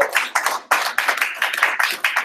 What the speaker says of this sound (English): let's give another round of applause to our brother